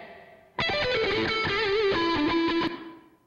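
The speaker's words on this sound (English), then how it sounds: "you can hear that's a lot of tail, a lot of reverb time" A loud, distorted electric guitar phrase with sustained notes and bends, ringing out into a fading reverb tail after it stops.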